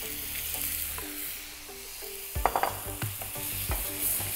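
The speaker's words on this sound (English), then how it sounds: "Nice and carefully pork into the pan, always away from you, right?" Pork frying in a hot pan while cooking sweet and sour pork, a quiet steady sizzle that swells into sharp crackling pops and sputters as the meat goes in, with no talk.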